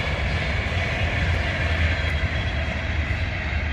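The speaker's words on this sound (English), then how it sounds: "Trains." A train rumbles past near a quarry lake, a steady, fairly loud low roar that holds throughout.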